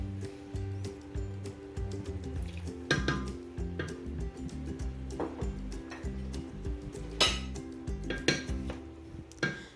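Meat with bitter gourd and a little water is stirred in a metal cooking pot, making repeated close clinks and scrapes of a spoon against the pot in an uneven rhythm, with no talking.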